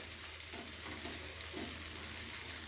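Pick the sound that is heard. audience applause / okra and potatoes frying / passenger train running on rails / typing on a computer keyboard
okra and potatoes frying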